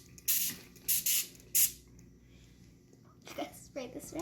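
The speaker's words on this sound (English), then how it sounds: "Let's spray this red." Short bursts of red dye sprayed from a bottle onto a fabric tie-dye mask: four close hissing sprays in quick succession, then a pause before a voice talks.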